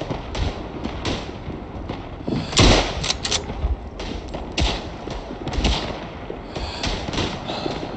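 Blasts and scattered gunfire in Tannenberg, a World War I PC shooter, with one heavy boom standing out among repeated sharp cracks and thuds over a constant noisy battlefield bed.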